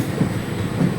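A train runs on the Punalur to Edamon line, heard from on board as a steady, loud rumble with faint rhythmic wheel clatter over the rails.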